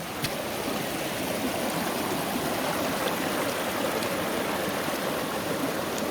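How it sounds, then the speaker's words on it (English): A small waterfall pours into a mountain stream beside a high trail, a steady, dense rushing and splashing heard close and unbroken, with no voices. "A little waterfall right there, that's cool."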